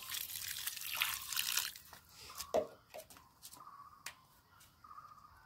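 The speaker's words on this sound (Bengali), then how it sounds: "এবার আমরা উপর থেকে একটু জোরে জোরে জলগুলো দিব যাতে বালিগুলো বা মাটিগুলো পরিষ্কার হয়ে যায়" Water is poured forcefully over lotus tubers to wash off soil and sand, starting with a burst of splashing that thins into scattered trickles and drips.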